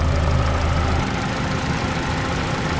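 A vehicle engine idles smoothly and steadily at close range, with a low rumble that drops slightly after the first second, and no one speaks over it.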